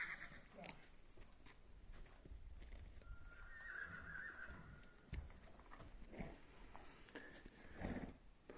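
A 15-year-old mare whinnies once, a long faint neigh heard from a distance, with soft hoof clops and outdoor noise around it.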